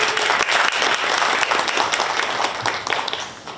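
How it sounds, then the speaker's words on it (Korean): An audience at a Sejong youth sponsorship event applauds Hong Young-hoon, director of the Sejong City Youth Center. The clapping is dense and close, with crisp individual claps, and tapers off slightly at the end. "박수 한번 부탁드리겠습니다"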